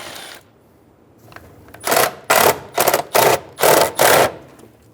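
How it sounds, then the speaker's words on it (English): A ratchet with an 8mm socket loosens air box bolts on a 2003-2008 Honda Pilot, making six quick clicking bursts in an even rhythm, close and fairly loud, after a quiet pause. "Using an 8mm socket, remove the 4 bolts for the air box."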